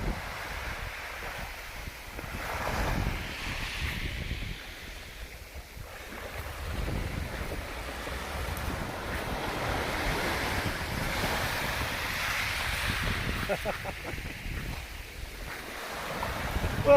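Sea waves at Town Beach on the south coast, a steady rolling wash of surf with heavy wind buffeting the microphone throughout, loud and continuous with no talking.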